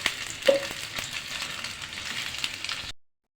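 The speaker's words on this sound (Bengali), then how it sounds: "তো আমি কিছুক্ষণ ভেজে নিচ্ছি" Chicken balls frying on a medium flame give a soft, even sizzle with a few faint stirring taps, then it cuts to silence near the end.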